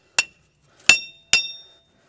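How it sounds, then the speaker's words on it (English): A hammer taps a wheel bearing out of a Dodge Ram 1500 truck during front universal joint work, giving three sharp, close metallic strikes with short ringing decays and quiet gaps between them. "So what you can do is take your hammer and"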